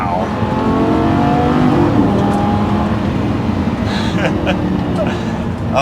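Engine of a Lamborghini Gallardo accelerating, heard from inside the car as a loud, steady drone with a rising tone, while someone talks over it.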